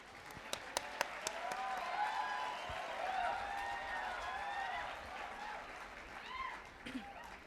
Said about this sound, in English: Everyone, please welcome with a round of applause.